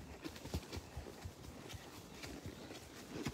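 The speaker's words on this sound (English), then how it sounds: "Oh, was that the horse?" A horse on a ranch trail snorts and huffs in short bursts, with faint hoof clip-clops and rustling around it and no talking.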